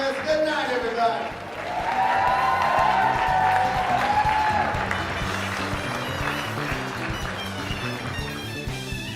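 An audience applauding at a crowd event: steady, dense clapping with scattered cheers and whoops, sustained and fairly loud, with a voice talking over it at the start.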